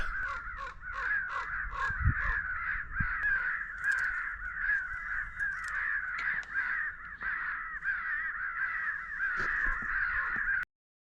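Crows cawing repeatedly and loudly during a crow hunt, harsh overlapping calls from several birds continuing steadily throughout, with a couple of low thumps.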